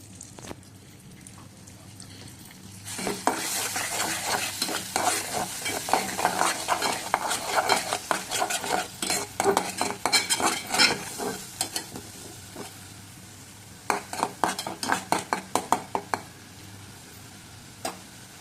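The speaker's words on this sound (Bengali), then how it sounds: "সেম কড়াইতে আমি সামান্য পরিমাণ তেল দিয়ে নিয়েছি সয়াবিন তেল এর মধ্যে আমি বাটা মশলাগুলো দিয়ে দিলাম টমাটো পেঁয়াজ আদা রসুন বাটা" Ground masala paste of tomato, onion, ginger and garlic hits hot soybean oil and sizzles loudly for about ten seconds under busy stirring and scraping. It settles briefly, then a final burst of spoon scrapes follows, close up and without talk.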